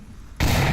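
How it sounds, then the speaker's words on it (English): A grenade lands on a rooftop in the VR shooter Onward: one sudden, loud thud at the start that hits hard, then sustained heavy rumbling noise, with no voices. "Looks like someone threw one, but it landed on the roof instead."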